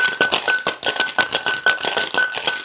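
A cocktail shaker tin holding a Bramble is shaken hard, its ice rattling in a fast, even rhythm of sharp clatters that sounds close and continuous, with no voices.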